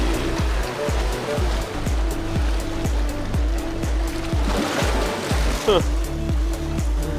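Small waves lapping at a fishing spot, heard as a steady rhythmic splashing pulse close by, with wind noise and a brief spoken exclamation over it.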